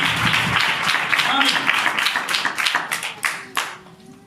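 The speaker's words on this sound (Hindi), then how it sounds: "जोरदार ताली बजाएं" Church congregation clapping loudly during a Hindi-Urdu sermon, a dense run of claps with some voices over it, fading toward the end.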